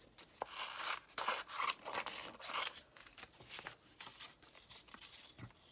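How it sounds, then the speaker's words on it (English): Scissors snip out paper stamps in a series of close, quiet crisp cuts with rustling paper between them and no talking. "I'm going to go ahead, I think, and cut out these two stamps that come with this set."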